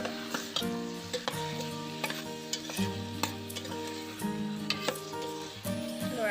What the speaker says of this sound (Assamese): এইবোৰ মই এতিয়া ভালদৰে লৰাই লম